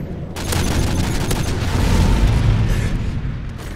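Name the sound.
Predator missile explosion in Call of Duty MW3 video game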